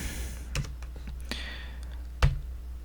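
Keyboard typing while a path is entered into a React Router route: a few isolated soft key clicks, with one sharper louder tap near the end, faint against a quiet background.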